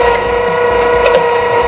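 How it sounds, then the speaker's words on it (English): Electric meat grinder with a coarse head running steadily on venison, a continuous close mechanical whir with a ratcheting gear-like hum and no pauses. "Let's go ahead and kick her on and get her started."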